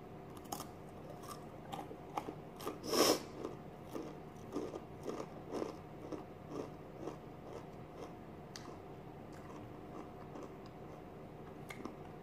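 Crunchy hot Takis rolled tortilla chips being chewed close to the mouth, a run of sharp, irregular crunches and crackles with one loud bite near the middle, no talking.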